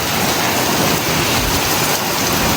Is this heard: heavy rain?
yes